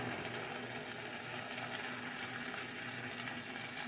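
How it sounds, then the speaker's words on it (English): Onions and garlic fry over high heat in a pan, giving a faint, steady bubbling sizzle with a soft watery crackle that continues evenly throughout, with no voices. "you actually want to keep frying this on a high heat"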